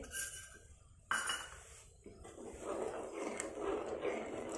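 Gram flour is stirred into a soya vadi rassa curry in a pot: a sharp metal clank of a spoon against the pot, another knock, then soft continuous scraping and swirling, all quiet and close.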